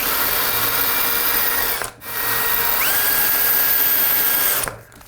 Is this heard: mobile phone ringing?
no